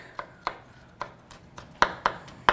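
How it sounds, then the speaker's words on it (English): Garlic is minced with a knife on a board: eight crisp, close chops at an uneven rhythm, each a sharp tap, with quiet gaps between. "This I want minced. I don't want a big chunk of garlic"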